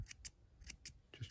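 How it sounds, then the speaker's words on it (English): Small shears snip at fuzzy needle-felted wool, making about five quick, crisp cuts in an uneven rhythm, heard up close and alone. "I use these little shear things as well"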